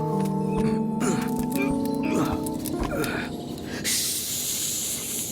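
A voice imitates a snake's hiss, a drawn-out breathy hiss rising near the end, with some humming and musical tones underneath.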